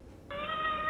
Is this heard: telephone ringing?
no